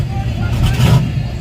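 A drag car accelerates hard at Carolina Dragway during a daily-driver shootout, a deep engine roar rumbling beneath a crowd's babble and voices throughout the short burst.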